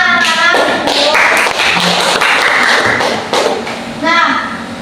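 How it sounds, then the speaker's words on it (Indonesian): Schoolchildren in an Indonesian classroom break into a few short bursts of clapping and tapping, mixed with children's voices and chatter, close and fairly loud. "beri tepuk tangan anak-anak"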